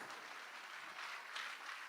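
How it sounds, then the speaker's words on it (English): Audience applause after a live national anthem rendition by a singer and pianist at a city's State of the City address, a steady wash of many hands clapping throughout with no voices. "Please keep that applause going for singer and pianist Chris Nuno."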